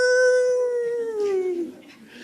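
A single dog lets out a long, loud howl to the moon that slowly falls in pitch and fades into a soft whimper, close and alone with no talking.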